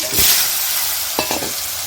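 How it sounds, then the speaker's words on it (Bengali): Close, hissing sizzle of potatoes frying in hot oil, with a few soft scraping stirs near the end. "এবার আলুগুলো ভেজে নেব"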